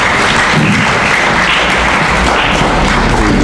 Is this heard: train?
no